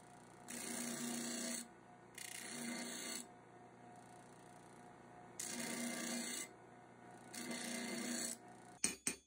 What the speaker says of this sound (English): At home, I polished the hoe a bit more.